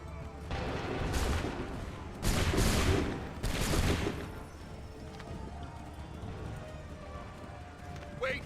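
Soldiers fire musket volleys in an Assassin's Creed 3 battle, three loud broad bursts of massed gunfire a second or so apart, followed by lower battlefield rumble and clatter.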